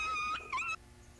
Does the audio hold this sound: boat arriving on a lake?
no